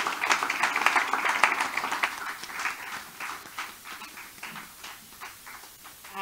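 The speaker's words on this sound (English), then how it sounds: "let's just give them another round of applause" A conference audience applauds a just-finished panel at a resilience dialogue, the clapping fairly near and dense at first, then thinning and fading over several seconds.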